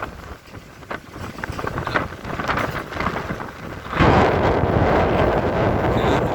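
Strong wind roars and buffets the microphone in rumbling gusts. It grows heavier and louder partway through, with no voices.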